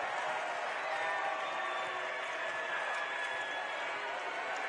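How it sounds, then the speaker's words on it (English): Basketball arena crowd at a Denver at North Dakota State game, a steady broad roar of many voices filling the hall, with no standout cheers or claps. "This crowd is ready to go crazy here."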